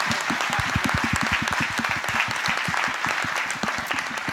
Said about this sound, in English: Can we just have a round of applause for the event organizers?